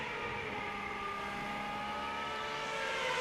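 Steady, droning onboard engine note from a Superleague Formula race car at the Zolder circuit in 2010, holding a constant high pitch at close range with no talk.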